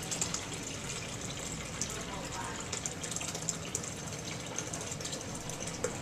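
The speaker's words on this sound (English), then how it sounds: "So it's ready to get into the pitcher. And you can use a colander or something, but I think it's easier just to pour" Purple cabbage juice poured from a pot into a pitcher, a steady splashing trickle of liquid that runs for several seconds with faint background noise.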